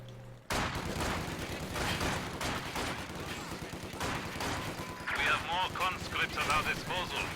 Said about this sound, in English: sniper picking away at these conscripts from range